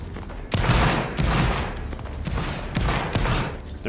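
Bursts of gunfire in a military video game, several loud rapid volleys about every half second to second, dense and overlapping, close and unbroken by speech.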